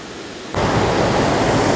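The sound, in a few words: Rocky Falls waterfall in Ithaca, New York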